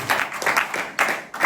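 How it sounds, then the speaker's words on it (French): Applause from a church congregation at a Sunday worship service, clapping in loud surges that rise and fall in rhythmic bursts over a short stretch. "Nous pouvons encore applaudir le Seigneur."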